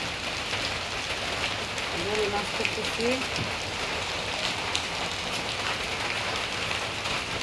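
Steady rain falls outside a home during a downpour, a constant broadband hiss running throughout while people talk nearby about fish and the market.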